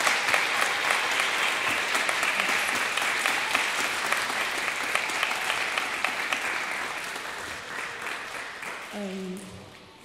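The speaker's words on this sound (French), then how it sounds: "Donc je voudrais des applaudissements pour Egvara et ses camarades." A crowd at a taekwondo club gathering applauds a champion and teammates, with dense sustained clapping at fairly even loudness that thins and fades near the end as a voice starts to come in.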